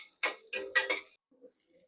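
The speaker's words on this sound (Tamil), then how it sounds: "இது ஏற்கனவே வறுத்தது தான், இருந்தாலும் அதிலே போட்டு அப்படியே வறுத்துக்கிறேன்." Coriander seeds and dried red chillies are dry-roasted in a pan, giving a few quick metallic scrapes and rattles of a spoon against the pan, close by, followed by faint clinks in near silence.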